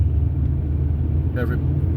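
A car drives in traffic from Desert Hot Springs toward Yucca Valley, a steady low road rumble from inside the vehicle with a brief faint high sound near the end.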